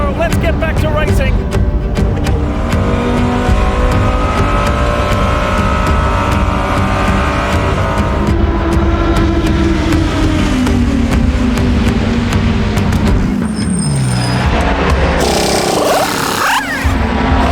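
Race cars at the Rolex 24 at Daytona accelerate on a restart after a long caution, a loud dense roar of engines rising and shifting in pitch, with several cars passing close by near the end.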